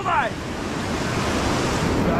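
Rushing river rapids on the Ganges at Rishikesh roar during a rafting trip, a loud, steady broadband rush with wind buffeting the microphone, and a brief voice near the start.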